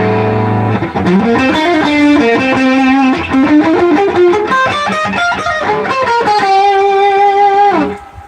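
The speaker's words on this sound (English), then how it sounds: "Now here's my distortion." A distorted electric guitar played through an amp's distortion channel plays a sustained, gritty melodic line with bending notes, loud and saturated, ending with a held note that cuts off.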